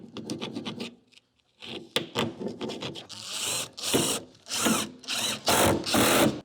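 A driver fitted with a T40 bit screws a steering column bracket back into place in a car interior, giving repeated short bursts of whirring and grinding with brief gaps between, close and fairly loud.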